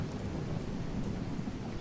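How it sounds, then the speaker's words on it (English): Loud, low rumbling thunder from the True Storms weather mod in a video game, a continuous heavy roll that fills the whole stretch with steady rain-like noise. "Oh wow, that thunder is really loud."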